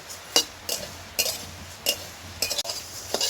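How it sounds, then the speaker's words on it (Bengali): Flattened rice (chira) being dry-roasted in a dry wok with no oil, heard as several sharp scraping and clinking strokes of a utensil against the pan at irregular intervals over a faint background. "এইভাবে শুকনো কড়ায় লাল করে ভেজে নেব।"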